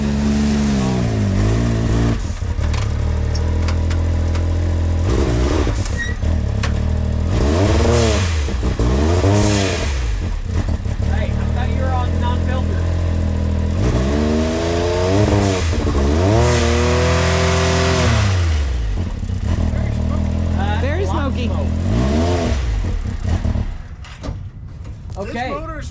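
An off-road machine at an off-road park revs hard and loud, its engine rising and falling in repeated sweeping bursts over about twenty-five seconds, with some voices underneath.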